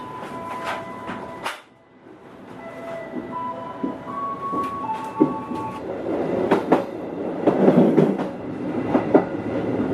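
A long-distance passenger train rolls along the rails between Cikampek and Cirebon, Indonesia, with rhythmic clacking and rumbling, brief tonal squeals, and the noise building louder toward the end.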